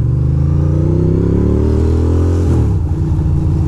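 A Ducati motorcycle rides through Brooklyn with a loud, close engine drone and steady rumble, its pitch rising and then dropping sharply near the end as the rider shifts or eases off, no voices.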